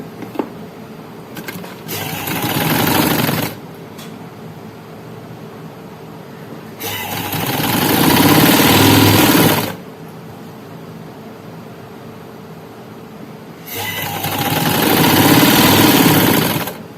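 A sewing machine runs in three bursts of stitching along a seam on a suit neckline, each run a few seconds long and fairly loud, with quieter motor hum and pauses between them.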